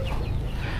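A tall, heavy pelung chicken, about six or seven months old, clucks at a village farm, a short low muffled cluck heard alone.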